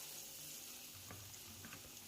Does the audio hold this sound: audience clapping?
no